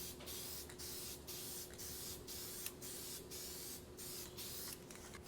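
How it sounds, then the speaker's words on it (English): SEM 38203 aerosol guide coat is sprayed over Bondo filler in a steady close hiss, broken into repeated short bursts with brief gaps, over a faint background hum. "I'm going to put some guide coat on here. This is SEM 38203."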